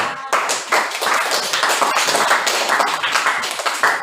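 A group of people in a classroom clapping their hands together, a dense, continuous burst of many claps close by, steady and loud for several seconds.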